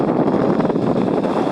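Strong wind blows at a scenic viewpoint overlooking a highway toward Batangas, a continuous loud rushing buffet across the microphone with no pauses and no talk.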